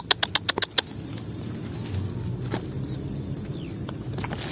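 High, thin chirps from a lone fledgling chick in a wild bird's nest repeat in short series, with a few sharper clicks or taps at the start over a steady outdoor background of insects.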